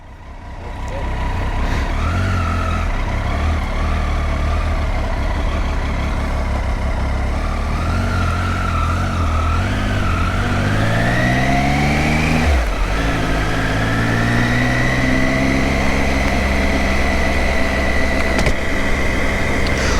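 A motorcycle engine runs loud and close after a cold start in drizzling rain, idling with a steady low drone that rises in pitch midway as the revs climb, then settles.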